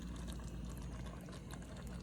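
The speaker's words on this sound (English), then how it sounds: "Bubbling away, beautiful." A pot of vegetable stew with mushrooms simmers on the stove, giving a steady, close, low bubbling and gentle liquid churn that continues without pause.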